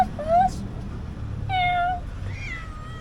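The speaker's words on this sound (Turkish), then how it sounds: "kediler bekliyor" Two or three short cat meows, fairly close, over a low background hum with faint room noise.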